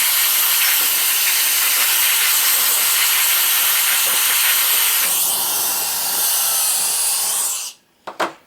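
An air compressor nozzle blows a sustained, loud hiss of air to clear dust from an embroidered hat and machine, changing pitch partway, then cutting off with a couple of short final bursts.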